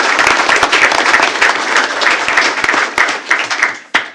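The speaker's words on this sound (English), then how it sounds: "let's give her one more round of applause" Loud, sustained applause from an audience at a school board of trustees meeting fills the room, a dense wash of clapping that fades out near the end.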